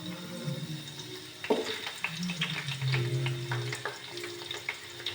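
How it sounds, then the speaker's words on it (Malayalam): Cauliflower sautés in a hot pan for chicken fried rice, a steady close sizzle with a few scraping stirs and clinks over several seconds. "കോളിഫ്ലവർ ആദ്യം ഇട്ട് വഴറ്റിയതിന് ശേഷം"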